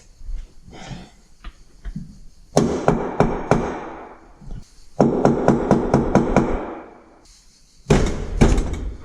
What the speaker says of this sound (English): Might get a mallet.